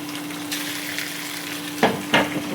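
Spices fry in oil in a pan with a steady hiss, then two sharper bursts of stirring or scraping near the end, close by and with no talking.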